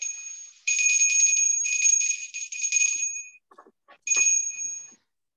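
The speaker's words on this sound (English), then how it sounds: "press the notification button, the bell notification" A bright electronic bell chime rings in repeated bursts with short gaps, loud and alone, followed by a few faint clicks and one last burst, as a notification bell sound effect.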